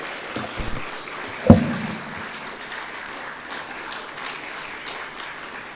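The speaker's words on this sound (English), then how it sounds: "Is there any harm if you can clap until such time the chairperson of council reaches his seat?" Applause from an audience at a university's 40th anniversary celebration, steady crowd clapping throughout with a sharper loud burst early on, moderately distant.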